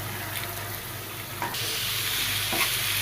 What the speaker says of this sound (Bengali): এই তো মুরগির মাংস আমি কষাতে লাগছি